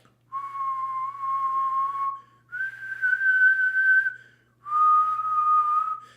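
Three sustained whistled tones, each held about two seconds with short breaks between, the middle one pitched slightly higher; clear and close, no talking.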